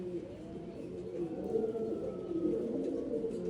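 Soft pigeon cooing close by, repeated low throaty murmurs rolling on continuously in a quiet setting.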